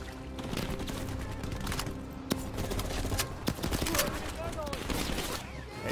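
AK-74 rifle fire in Black Ops Cold War, sharp repeated shots and clattering bursts mixed with game action, with a voice talking over it.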